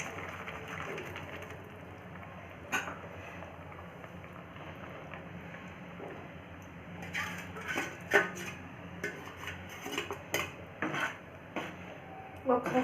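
A spoon scrapes and clinks against a metal pot while moong dal payasam with fried dry fruits is stirred, irregular sharp taps and scrapes growing busier toward the end over a low background hum.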